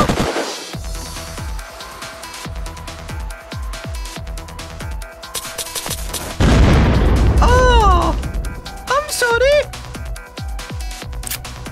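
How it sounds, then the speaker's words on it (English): Rocket explosions boom in the Unturned game, with a run of sharp pops and bursts followed by a loud, sustained blast that swells close by, while game sounds and voices mix in around it. "Using rockets, you evil person."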